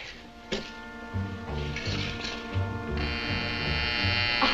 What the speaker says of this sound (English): my silly alarm watch. Sometimes I forget to unset it.